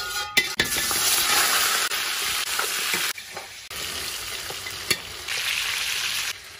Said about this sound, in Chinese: 把羊排揽干以后呢，把我们葱姜蒜皮啊倒进去， 再把我们切了点鲜椒放进去， 炒香以后我们开始加料